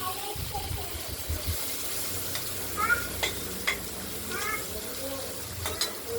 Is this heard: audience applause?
no